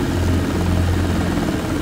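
A Robinson R22 helicopter taking off, its engine and rotor making a steady, loud low drone with a constant thrum that holds evenly throughout, with no voices.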